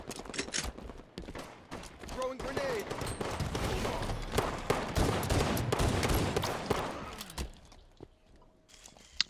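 Rapid bursts of automatic gunfire from a Halo Hang 'Em High multiplayer match, dense and loud for most of the span, then thinning out toward the end, with footsteps and clanking mechanisms mixed in.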